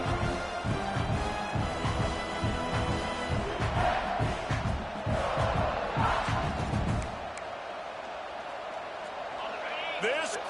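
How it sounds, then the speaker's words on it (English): A full stadium crowd roars steadily in the NCAA College Football 26 video game, a dense wall of noise under play-by-play commentary that eases slightly near the end. "This crowd, full throat, splitting the eardrums and letting them know it's going to be a long day"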